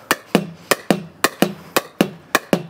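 A pickleball paddle punches forehand volleys against a wall at home, about nine sharp, evenly spaced pops, each ball hit followed by a quick bounce off the wall, close and loud with no talking.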